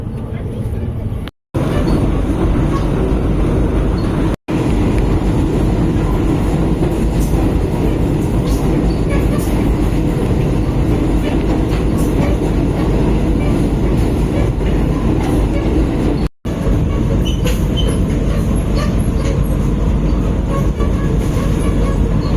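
A Madurai–Bangalore Vande Bharat Express runs on the tracks, heard from inside as a loud, continuous rumbling roar with faint rhythmic clatter, briefly cutting out a few times.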